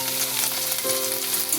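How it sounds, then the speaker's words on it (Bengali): Quartered tomato frying with potatoes for a Bengali potato curry, a steady close sizzle with a low hum running underneath. "টমেটোটা আলুর সাথে কিছুক্ষণ ভেজে নিয়ে"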